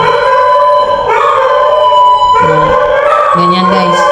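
Dogs howling, drawn-out wavering tones that rise and fall, loud and close, with several voices overlapping in long sustained wails.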